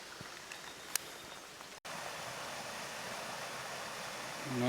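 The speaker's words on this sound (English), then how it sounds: "Nice little waterfall along the Indian Creek Trail." Small waterfall on Indian Creek along a hiking trail in Wildwood Park, Thousand Oaks, California, giving a steady soft rushing wash of water, with a brief click and a momentary dropout partway through.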